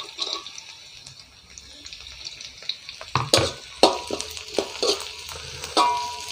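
Onions sauté in a pan for Sri Lankan chicken kottu roti, with a soft sizzle under repeated stirring and scraping clicks that grow louder and busier partway through, close by.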